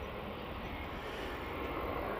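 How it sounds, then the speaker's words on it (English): A Boeing 737 MAX 8 on its takeoff roll at Manchester Airport, heard as a broad, steady engine roar, dense and continuous, with no break and no voices. "737 MAX 8 now on the roll."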